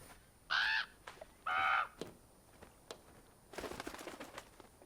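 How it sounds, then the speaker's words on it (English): A bird trying to get into a building in the video game Draugen gives two loud, harsh crow-like caws close by, followed by scattered taps and a brief flutter or rustle. "Why is there a bird trying to get in?"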